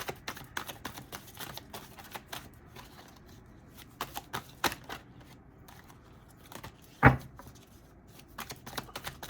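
Tarot cards are shuffled and handled near the microphone, producing soft riffling bursts and scattered dry taps and flicks with one sharp louder snap, the quiet room otherwise nearly silent.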